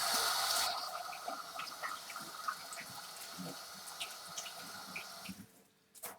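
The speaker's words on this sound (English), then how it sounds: "Let's wash my hands." A kitchen tap runs steadily while hands are washed, a close hiss of water with small splashes that cuts off near the end.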